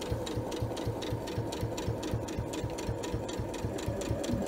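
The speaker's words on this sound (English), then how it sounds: "Then you place it back under your foot, resume sewing, quarter of an inch away, come down to the other side." A sewing machine stitching binding on a small quilted mug rug, running steadily with a fast, even mechanical clatter and hum, close and continuous throughout with no talk.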